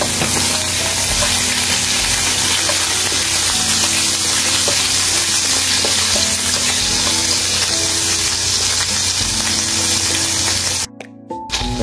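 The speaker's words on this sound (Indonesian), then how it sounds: "cabai rawitnya digoreng dulu ya teman-teman" Bird's eye chilies and garlic fry in hot oil with a loud, steady, hissing sizzle that runs unbroken until a brief cut near the end, with no talk.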